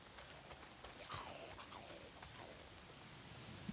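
Rain falls steadily in the game Days Gone, a faint, even patter of drops on surfaces in a forest setting that continues without a break and without speech.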